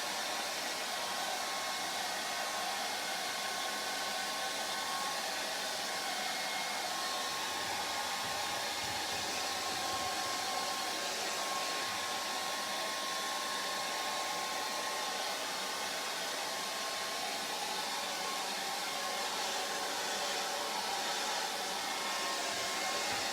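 Hair dryer blowing over wet acrylic paint on a canvas, a steady loud broadband whoosh that runs unbroken throughout without talk.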